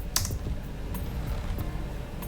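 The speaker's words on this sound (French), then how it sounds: "On tape ensuite sur le bouton Entrée de son clavier." Keys tap on a computer keyboard, with one sharp press standing out near the start followed by a few lighter, sparse clicks over a low background hum.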